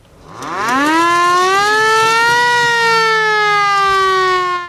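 A vintage ambulance's loud wailing siren winds up from low to a high sustained tone, steady and close, then cuts off abruptly.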